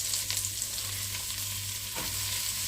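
Leeks sizzle steadily in salted butter in a hot saucepan, a constant crackling hiss with a few soft stirring scrapes.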